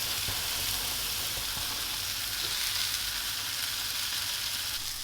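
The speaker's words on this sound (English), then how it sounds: "I just want to toast this bread and get this nicely toasted" Bread toasting in a frying pan, a continuous even sizzle and crackle heard up close, moderately loud and unbroken.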